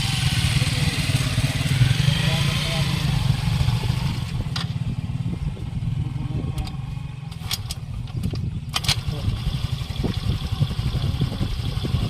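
A motorcycle engine idles to warm up on a rough, muddy shortcut road, giving a steady low rumbling putter close by, with a few sharp clacks partway through.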